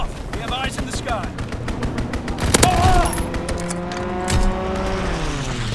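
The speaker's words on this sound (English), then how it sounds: "Fighter pilot inbound. Strafing the target." Fighter plane strafing in the Call of Duty WWII video game: rapid repeated gunfire bursts with engine roar and a passing whoosh, loud and close, while voices talk over the action.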